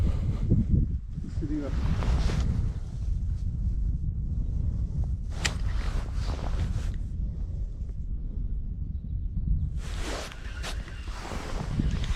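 Steady wind rumbles and buffets against the microphone outdoors while perch fishing, with a few louder gusts and a murmur of voices underneath.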